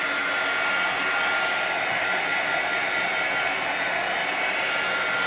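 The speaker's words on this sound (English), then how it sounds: "I'm going to use my embossing gun to dry it" An embossing heat gun blows steadily close by to dry a textured paint effect, a constant loud rushing hiss like a hair dryer with no pauses.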